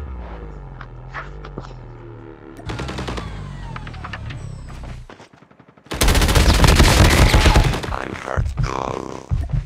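Bursts of gunfire in a Call of Duty battle royale match, with rapid automatic fire and sharp shots clustering loud near the end over steady game ambience.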